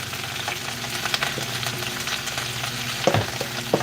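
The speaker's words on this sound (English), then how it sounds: "I'm putting it in the skillet, in the hot grease." Lettuce and green onions frying in hot grease in a home skillet, a loud continuous sizzle and crackle with occasional utensil knocks and scrapes near the end.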